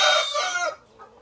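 Layer chickens on a poultry farm, being moved into a laying house, give a short rooster crow followed by faint clucking, close and clear with no talking.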